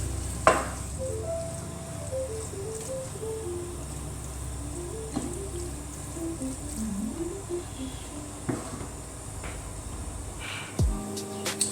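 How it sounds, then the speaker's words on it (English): Tofu frying in a pan with a steady, soft sizzle running throughout, broken by a few brief stirring knocks and a short clatter near the end. "Let the tofu cook in this."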